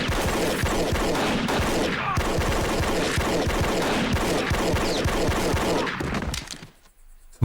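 Dense gunfire from a Breaking Bad TV episode: rapid automatic bursts and shots pour out continuously and loudly for several seconds, then cut off abruptly into near silence.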